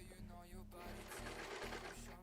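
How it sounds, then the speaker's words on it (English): A serger sewing machine runs in quick bursts, a close mechanical whir with a rapid stitching rhythm that starts and stops a few times, fairly quiet overall. "we got the serger out"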